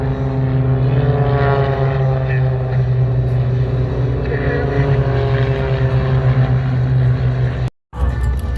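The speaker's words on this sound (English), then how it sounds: "the team leader will roll his aircraft upside down" Propeller-driven aircraft of an aerobatic team fly at the EAA AirVenture Oshkosh airshow, a steady, loud engine drone holding through the sky before cutting off abruptly near the end.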